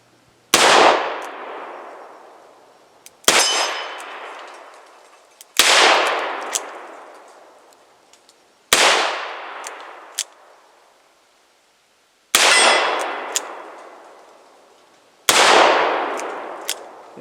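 Six loud shots ring out one at a time, a few seconds apart, from a Ruger GP100 revolver. Each shot is followed by a metallic clang from a steel target and a decaying echo.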